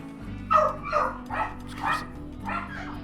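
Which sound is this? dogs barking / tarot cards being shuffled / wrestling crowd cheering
dogs barking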